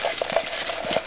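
A hand stirs through a pile of paper raffle tickets, producing a continuous close rustle with small crisp rattles scattered throughout and no voices.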